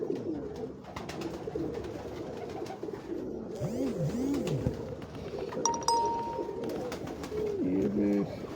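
Crossbred pigeons on a Lahore rooftop coo in low, rolling calls over steady outdoor background noise, with a few faint chirps and clinks nearby.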